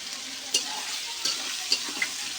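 Spice paste of garlic, chilli and mustard sizzles while it is fried and stirred in a pan, giving a soft, continuous sizzle broken by a few sharp scraping clicks from the stirring utensil.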